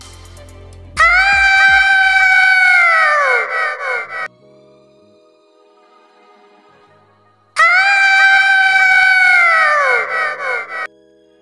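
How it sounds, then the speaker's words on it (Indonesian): A woman gives two loud, shrill screams separated by a quiet pause, each rising sharply, holding and then breaking off in wavering bursts. "dan ia pun teriak."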